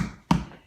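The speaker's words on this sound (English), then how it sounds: "just stick it in the middle and give it a little tap." A single sharp tap driving a craft stick into the middle of an apple, one close, brief knock with a short thud.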